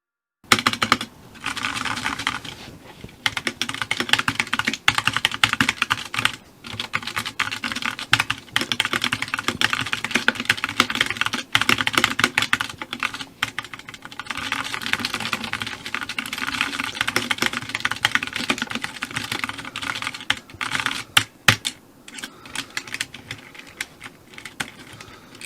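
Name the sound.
typing on a homemade worst-possible keyboard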